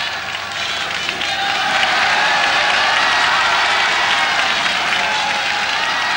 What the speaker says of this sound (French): une foule compacte et hurlante